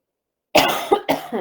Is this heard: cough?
yes